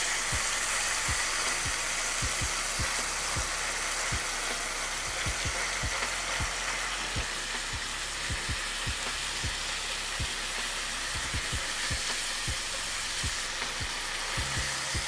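Seasoned ground beef sears smash-burger style in a hot skillet, giving a loud, continuous sizzle and crackle with scattered sharp pops and occasional scraping taps throughout.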